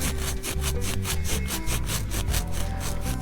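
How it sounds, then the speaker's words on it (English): A Scotch-Brite pad scrubs the commutator of a Kubota L185 starter motor in fast, even back-and-forth strokes, about five per second, loud and close with no talking. "Scotch-Brite, clean this up."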